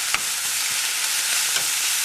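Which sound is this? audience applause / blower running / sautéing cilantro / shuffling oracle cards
sautéing cilantro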